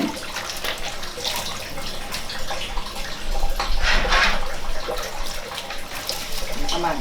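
Rice for the Thai dish khao chae rinsed in cold water, a continuous loud splashing and sloshing with scrubbing swirls, close up and steady throughout.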